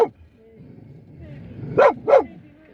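A dog outdoors in a park barks twice in quick succession at black-painted cattle statues, after a quiet stretch with faint background sound.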